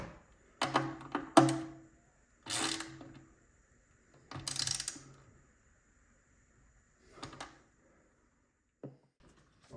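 Small metal nut being tightened by hand on the rear panel of a Hiwatt DR103 amplifier build, heard as a few short clustered bursts of close mechanical clicks and rattles separated by pauses.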